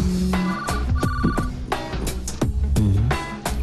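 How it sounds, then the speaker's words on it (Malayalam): A mobile phone rings indoors in a home, repeating a bright electronic ringtone melody loudly and close, with short pauses between phrases and no talking over it. "ഫോൺ ഫോൺ എന്റെ ഫോൺ"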